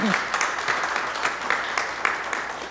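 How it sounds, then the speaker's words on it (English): A crowd applauds at an Oklahoma City city council meeting, with sustained, fairly loud clapping from start to finish and a few brief voices over it. "Let's give them all a big round of applause for this partnership."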